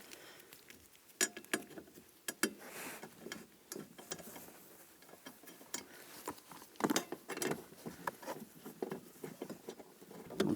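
Bolts are snugged down on a 2010-2017 Chevrolet Equinox heater core bracket, giving irregular sharp metallic clicks and taps from a hand tool, close and fairly quiet, with pauses between bursts.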